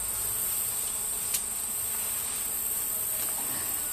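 Bees buzz around hives as they are smoked and moved, a steady insect drone close by with a high constant whine and a brief sharp knock midway.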